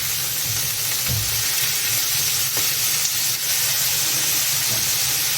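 Chicken liver hits a hot pan and sizzles with a steady, bright hiss, close and continuous with a few louder spits.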